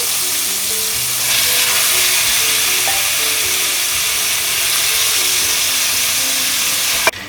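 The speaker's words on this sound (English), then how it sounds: "So we're going to fry it to the point that the color is now a little bit" Lamb pieces fry in ginger garlic paste inside a cooking vessel while being stirred for a Mughlai lamb korma, a steady close sizzle with faint scraping of the stirring throughout, ending in a brief clank.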